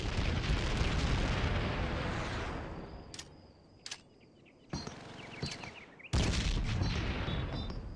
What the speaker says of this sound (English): Toss a frag grenade through it.